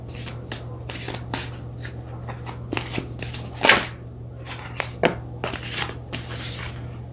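Moonology oracle cards being shuffled by hand, a string of crisp riffling bursts and soft slaps repeating irregularly over a low steady hum, close and fairly loud.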